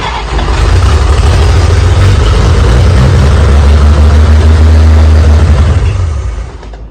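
A 1946 Chevy engine fires up on a hot-wired coil and settles into a loud, steady low rumble that holds close to the microphone for several seconds before tapering off at the end.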